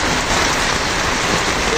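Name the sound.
heavy rain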